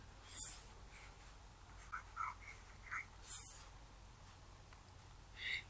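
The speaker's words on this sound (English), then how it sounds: "let me erase it" Short scrubbing strokes of writing being erased, a handful of brief rubbing bursts spaced irregularly over near silence, close and fairly faint.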